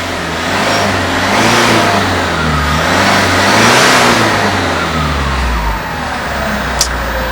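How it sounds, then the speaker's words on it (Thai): A 2019 Mitsubishi Triton 2.4 pickup's stock turbo diesel engine revs up and down in several surges, with a turbo whine over a deep rumble, loud and close, and no one talking. "ผมบอกเลยว่าคันนี้มีเทอร์โบนะคันนี้มีเทอร์โบนะครับผม เห็นปะเสียงเทอร์โบอะ เดียออกชัดมากอะ"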